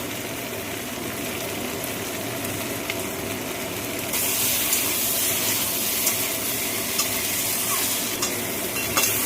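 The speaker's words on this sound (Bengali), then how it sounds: "দিয়ে দেবো ভেজে রাখা পটলটা দিয়ে আরেকটু মেরে দেবো দেবো হালকা একটু গরম মশলা" Fried pointed gourd and potatoes with garam masala sizzle in a pan while being stirred, a steady frying hiss that grows louder halfway through, with scraping touches and no talk.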